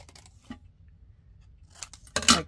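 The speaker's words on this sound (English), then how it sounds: "Trim yourself off a piece of cardstock." Scissors trimming a piece of cardstock, a few quiet snips early on followed by a louder, sharper cut close by at the end.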